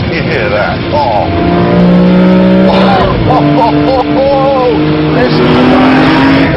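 A BMW M3 E46 CSL at speed on Isle of Man roads gives a loud, close engine wail that rises and falls through gear changes, with a voice speaking over it.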